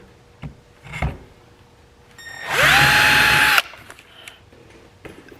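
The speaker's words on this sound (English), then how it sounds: "pilot holes that you need to drill for the screws on the hinge" A small power drill whirs briefly for about a second, drilling pilot holes for cabinet hinge screws, its high whine spinning up and cutting off, after a few light knocks and handling sounds.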